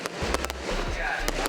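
Fireworks at a Ravan Dahan event in Hapur, a rapid string of sharp cracks and pops over booming low thuds, with a voice speaking over the noise.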